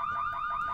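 A burglar alarm in The Sims 2 video game wails in a steady, rapidly repeating electronic siren cycle, loud and continuous.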